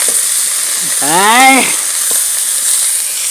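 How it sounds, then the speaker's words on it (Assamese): Turmeric-spiced food fries in a wok as it is stirred, giving a steady loud hiss and sizzle, with one short rising tonal sound partway through. "এতিয়া কেৰাহী লৰাই দিওঁ ধুনীয়াকৈ"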